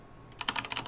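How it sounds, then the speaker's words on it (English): A burst of quick keystrokes as code is typed on a computer keyboard, close and fairly quiet, starting after a brief pause and clattering rapidly to the end. "we can utilize it by typing"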